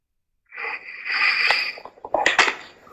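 A caller snoring over a livestream call: a raspy, wheezing drawn breath followed by sputtering, irregular snorts, fairly close and alone.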